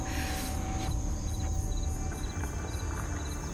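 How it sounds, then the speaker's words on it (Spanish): Crickets and other insects chirp steadily in the wilderness of a naked-survival challenge, a dense, continuous rhythmic trilling with repeated pulses, fairly loud and close, with no talking. "Son demasiados insectos."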